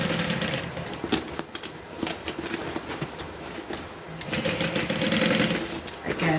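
A sewing machine stitches the side seams of a Becca Bag flat, whirring in steady close-up runs broken by brief pauses and fabric handling.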